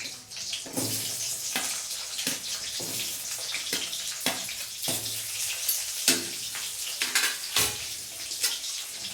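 Chopped onions tipped into lentils frying in oil in a pan, giving a steady close sizzle with repeated scraping and stirring strokes, no voices.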